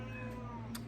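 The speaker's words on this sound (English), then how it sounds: "My cat is talking so much, guys." A pet cat gives a single short meow close by, heard clearly over a faint background hum.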